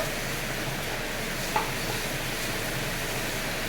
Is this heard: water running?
no